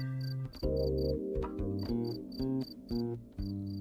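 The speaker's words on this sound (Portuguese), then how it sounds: "esse aí, escondido nesse buraco, é um grilo do campo, muito comum na França" A field cricket, common in France, chirps from a hiding spot in a burrow: bright, evenly spaced bursts of rapid trills repeat steadily over a low, sustained tonal background.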